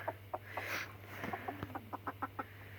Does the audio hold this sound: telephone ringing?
no